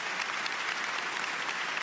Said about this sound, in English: it's your applause.